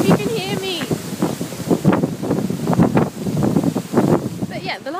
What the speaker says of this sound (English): But oh, it's really windy.